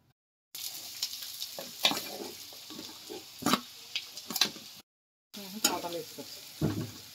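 Curry sizzles and fries in a pan, with steady hissing broken by sharp stirring scrapes and clicks, close up and fairly loud, with a short pause partway through.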